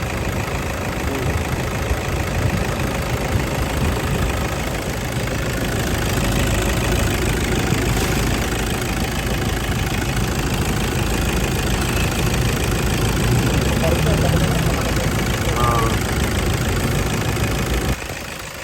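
A Toyota Fortuner with weak air conditioning runs its engine nearby, a steady, loud idle that swells gently in revs for a stretch before settling again.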